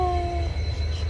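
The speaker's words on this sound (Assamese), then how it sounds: "ট্রেন এৰিছে আৰু" A train pulling away from a station, a steady low rumble of the moving rail cars with a brief high tonal squeal or whistle fading early on, continuous and fairly close, no talk.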